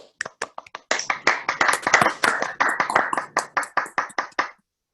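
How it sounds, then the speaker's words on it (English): A handful of people clap over a Zoom call to thank an employee at a board meeting, distinct sharp claps in uneven bursts, sparse at first and then a thicker run before stopping. "Can we all give him a round of applause on our Zoom?"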